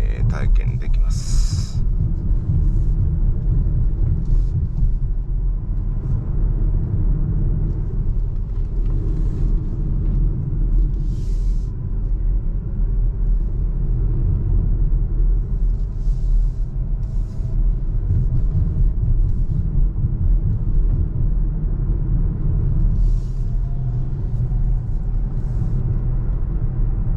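A Volvo XC40 Recharge electric SUV on the move gives a steady, loud, low road rumble throughout, with a person talking over it.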